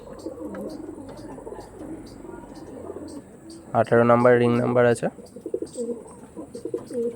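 Andhra pigeons give a short, loud burst of cooing partway through, with people talking close by before and after the calls.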